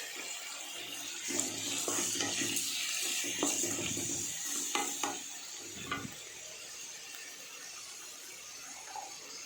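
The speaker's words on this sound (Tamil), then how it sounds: "இப்போ தக்காளி போட்டுக்கலாம்" Tomatoes and salt go into a pan of frying roasted brinjal thokku, a few stirring clatters and soft splattering sizzles that fade to a quiet hiss.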